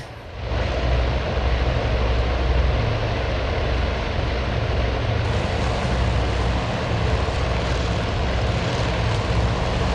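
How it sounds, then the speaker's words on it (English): Carrier-borne torpedo planes take off in the Task Force Admiral game, a loud, steady propeller engine roar that holds for the whole stretch without pause, with no voices over it. "the torpedo planes are getting airborne"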